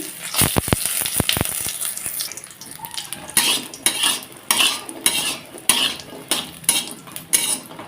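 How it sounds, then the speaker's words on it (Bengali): Lentil dumplings (bori) fry in hot oil in a wok: a few sharp metal clinks at first, then a run of scraping and sizzling bursts in an uneven rhythm, close and moderately loud. "তো কড়াইতে তেল দিয়ে দিলাম দেখো খুব সহজ উপকরণ এই শীতে কিন্তু এগুলো খেতে বেশ লাগে তো বড়িগুলো ভেজে নিচ্ছি"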